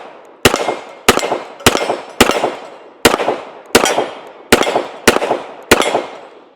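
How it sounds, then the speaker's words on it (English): A Colt M45A1 pistol fires nine sharp, loud gunshots at a steady unhurried pace, each crack followed by a short decaying echo outdoors. "Let's go ahead and take a few shots."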